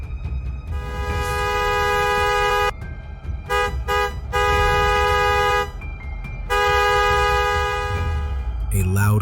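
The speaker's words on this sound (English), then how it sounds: "a loud car horn cut through the silence" A car horn blares loudly and close in three long, sustained blasts with short breaks between them, harsh and tonal over low traffic rumble.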